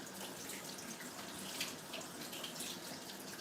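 Hands being washed under a steadily running tap, with a continuous close hiss of water splashing into a sink, no voices.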